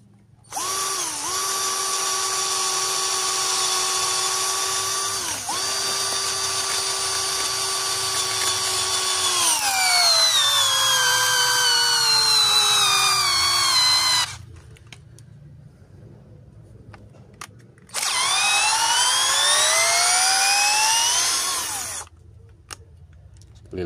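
Asteel 21v cordless drill driving a 15 cm, 6.3 mm screw into mahogany at speed 1 and maximum torque, a loud motor whine that drops and strains under load, pauses, then resumes for a second run before stopping.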